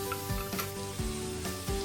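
Onion with green chili and curry leaves frying in a pan, a steady sizzle broken by a few scraping stirs at regular intervals, close and alone with no talking.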